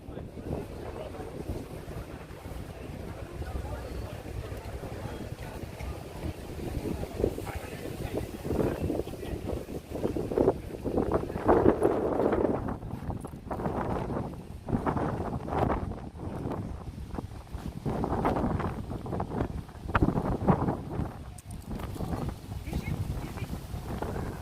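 Wind gusts across the Battery Park waterfront in New York City at sunset, buffeting the microphone in strong bursts that swell and fade over a steady low rumble.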